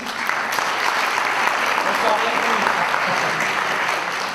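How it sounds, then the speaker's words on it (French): Steady applause from a crowd at an awards ceremony, continuous clapping filling the whole stretch without pause. "qu'on peut applaudir aussi"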